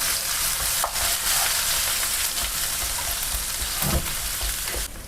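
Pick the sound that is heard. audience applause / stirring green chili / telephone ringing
stirring green chili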